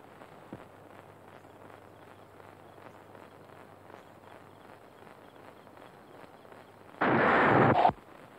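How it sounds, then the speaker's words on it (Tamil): A single sharp clap of thunder before rain bursts out loudly for about a second after a stretch of quiet background noise. "டேய் சின்னமணி, என்ன மழை வர மாதிரி இருக்குடா."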